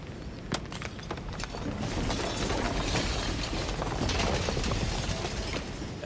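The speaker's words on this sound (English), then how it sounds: "And the shattering." A dense, sustained crackling and splintering shatter from the video game Slay the Princess, starting with a few sharp cracks and swelling into a continuous grinding rumble of breaking fragments, heard alone.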